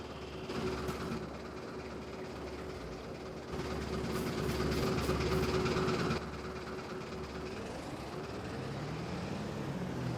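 Tractor engine in the Farming Simulator 22 video game, a steady low drone with a constant hum that gets louder midway and then eases into a shifting tone. No voices are heard.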